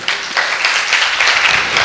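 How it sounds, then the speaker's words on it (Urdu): Congregation applauding during a church sermon: dense, bright clapping from a crowd, steady and loud throughout with no talk over it. "تالیاں بجا دیجئے"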